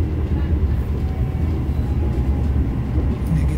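The Dharma Wangsa Express passenger train passes through Karawang station. A loud, continuous low rumble of wheels and carriages holds close and steady throughout.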